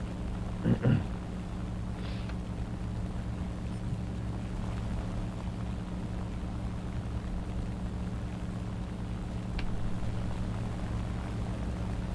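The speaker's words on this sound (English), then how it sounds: "Cut the engine, see if I can kind of slow the plane a little bit so it doesn't compress quite as bad." A propeller warplane engine in the War Thunder video game drones steadily at a constant level, with a couple of brief faint clicks and no talking.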